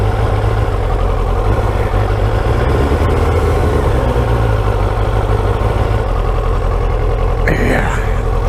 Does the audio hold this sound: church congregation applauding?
no